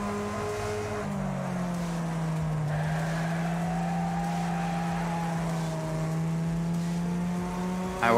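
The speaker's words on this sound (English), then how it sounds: "this car does sound absolutely gorgeous as well" An old Volvo-based car engine races in the Wreckfest video game, a steady, moderately loud drone that rises and falls gently as the car holds speed, with no talk over it.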